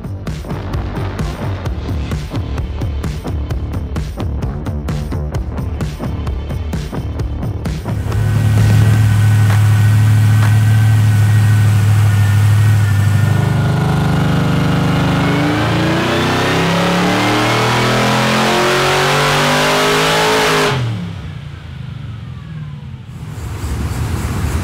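A Harrop-supercharged LSA V8 roars through a dyno power run, revving hard and climbing steadily in pitch before cutting off abruptly near the end, loud and close with no talking.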